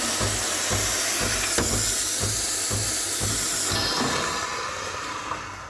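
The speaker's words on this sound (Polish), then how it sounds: "para zamiast e, tą dyszą do spieniania mleka zaczyna wydobywać się poprzez ten kranik do gorącej wody" A faulty Sage Barista Pro espresso machine lets steam escape from its hot water spout instead of the milk-frothing wand, giving a continuous loud hiss with a faint pulsing rumble underneath.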